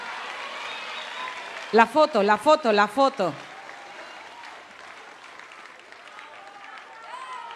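Applause for a performer at a live show at a festival in Acapulco, a thin crowd clapping beneath a brief burst of loud, rhythmic music in the middle, with a few words spoken.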